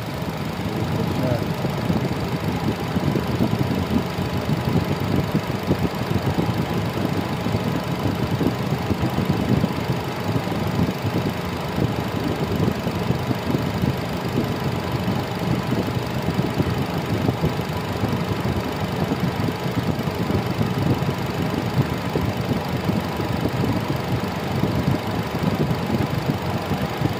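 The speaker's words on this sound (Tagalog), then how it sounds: "Nissan Almera HR15 engine." A 2019 Nissan Almera's HR15 engine idles steadily with a constant mid-pitched hum and faint knocking vibration, unchanging throughout; the car has aircon and overheating trouble.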